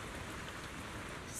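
Soft, steady rainfall in a Zenless Zone Zero game cutscene, a continuous even hiss of drops on surfaces, faint and unbroken with no voices.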